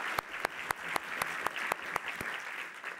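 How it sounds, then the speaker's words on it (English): Steady applause from a large audience at a fall 2018 journalism school commencement ceremony, with sharp individual claps standing out over the dense, continuous clapping. "I invite you now to give Krista a round of applause for the hard work and dedication to the Newmark J-School."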